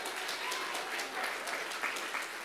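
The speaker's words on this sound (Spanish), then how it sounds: "Si le va a dar un aplauso, él un aplauso de verdad porque se lo merece." Church audience clapping at moderate distance, a steady patter of many hands with a few sharper claps standing out.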